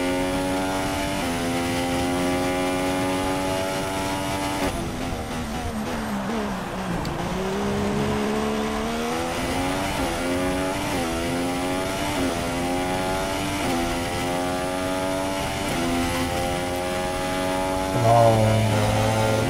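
A Formula 1 2016 race car screams around the Bahrain track in a video game, its high engine note climbing and dropping through gear changes and braking, loud and continuous, with a brief lower tone near the end.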